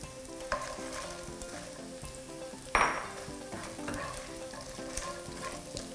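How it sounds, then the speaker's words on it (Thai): Pork cracklings stir-frying with cashew nuts in a pan over medium heat, a steady soft sizzle with scraping stirs and one sharper clatter of the utensil midway, no talk. "เดี๋ยวเราจะใส่ แคบหมูลงไปเลย"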